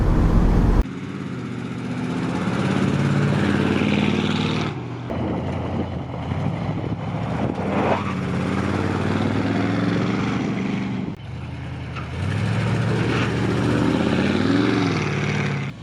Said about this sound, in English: This exhaust actually sounds pretty good.